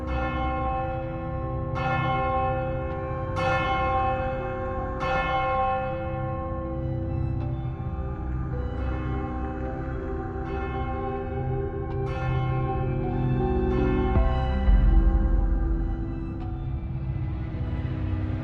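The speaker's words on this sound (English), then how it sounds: "Distant church bells toll." Church bells toll slowly and repeatedly at a distance, their strokes ringing out and overlapping in a long, resonant wash.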